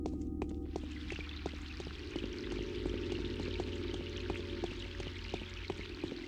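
Steady pouring and trickling water in the game Pathologic, a continuous close wash with scattered drips over a low ambient hum.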